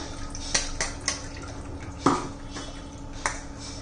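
Tomato soup worked through a strainer in a kadhai, with a few sharp metallic clinks and scrapes spaced apart over soft liquid sounds, close and moderately loud.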